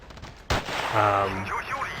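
A single sharp gunshot in the video game Battlefield 2, followed by a brief ringing decay and a short voice over the tail.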